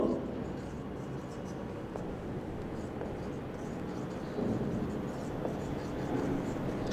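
Chalk or marker writing on a classroom board during a primary-school geometry lesson, a steady scratchy scraping texture running continuously throughout at moderate loudness.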